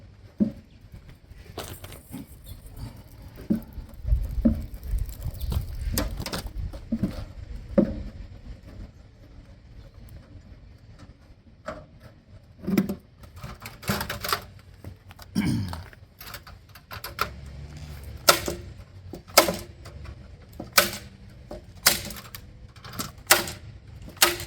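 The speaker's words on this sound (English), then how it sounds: "get ready to staple them." Bent wire mesh being stapled onto a wooden rodent-proof planter box, a series of sharp close staple clacks that grow more regular toward the end, over quieter handling rustles.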